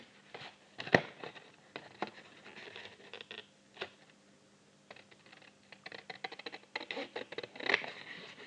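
Cardboard for a nametag is cut with scattered scraping and snipping sounds, soft and close, arriving in irregular bursts separated by quiet gaps, with no one speaking.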